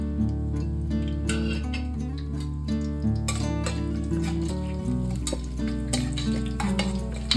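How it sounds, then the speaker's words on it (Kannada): Pulao spices roasting in hot oil in a pressure cooker, a steady close sizzle with stirring scrapes, under background music. "ಇದೆಲ್ಲ ಫ್ಲೇವರ್ ಬಿಟ್ಕೊಳ್ಳೋ ತನಕ ರೋಸ್ಟ್ ಮಾಡ್ಕೊಳ್ಳೋಣ ಎಣ್ಣೆಯಲ್ಲಿ."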